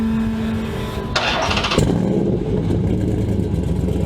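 A 392 engine with long tube headers and a custom-grind cam, around 600 horsepower at the crank, idles with a loping rumble, then snaps into a loud, close rev that stays roaring and raspy through the exhaust.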